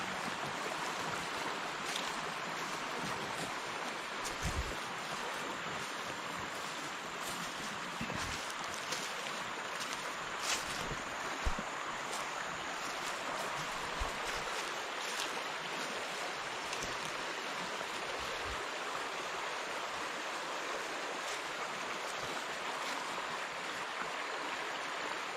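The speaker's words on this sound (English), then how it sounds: "this is where 2 streams come together, and a real robust stream" A robust mountain stream about 20 feet wide where two streams join in the Blue Ridge Mountains of Virginia, heard as a continuous broad rush of flowing water with occasional soft knocks, steady and fairly close with no voices.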